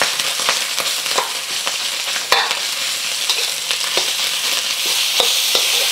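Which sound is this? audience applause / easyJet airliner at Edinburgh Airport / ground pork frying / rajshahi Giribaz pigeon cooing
ground pork frying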